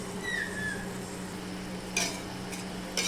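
Fish mixture with coriander leaves and green chillies is stirred in a pan over a low sizzle, with a couple of brief scraping clinks of the utensil near the end.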